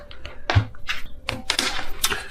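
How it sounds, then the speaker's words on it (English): A deck of tarot cards is shuffled in a few quick riffling and tapping bursts, close and fairly crisp, with no talk over it. "just a few shuffles and then I'll cut the deck"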